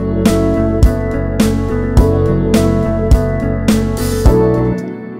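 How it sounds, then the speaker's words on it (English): A loud music mix with a melodic guitar line over a steady beat and sustained ambient pads, with regular percussive hits throughout. It stops abruptly near the end. "let's see how the guitar melody sounds with the ambience."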